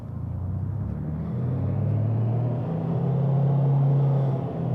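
Piper PA34 Seneca V twin engines in a flight simulator, heard from the cockpit and muted as if through a headset: a steady, low droning hum that swells slightly partway through, with no talk.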